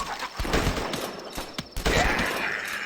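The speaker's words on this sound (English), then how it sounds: "Sometimes he doesn't automatically reload after firing both barrels. It's like, yeah, it's a double barrel shotgun" A double-barrel shotgun fires in the zombie-survival game The Last Stand, with a couple of sharp blasts and clattering reload clicks in quick succession, loud and close, no speech.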